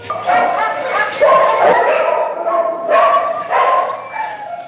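Dogs kept in a cellar in the 1960 horror film Eyes Without a Face bark and yip repeatedly in quick bursts, loud and close, with some whimpering tones between barks.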